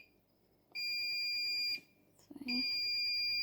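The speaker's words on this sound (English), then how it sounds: "this is for the beeping at the end" A washing machine's end-of-cycle alert sounds as two long, loud electronic beeps with a short gap between them, close by in a quiet room.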